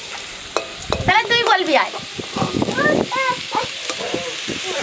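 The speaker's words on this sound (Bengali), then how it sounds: "আলু আর পেঁপেটা লাল করে ভেজে নিয়েছি" Potato and papaya pieces frying in a pan, crisp sizzling with sharp stirring scrapes and clatters in irregular bursts, close up, with a voice speaking briefly over it.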